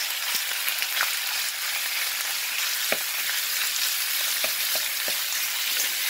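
Square-cut pork pieces fry in hot oil in a pan, a dense continuous crackling sizzle up close with scattered small pops throughout.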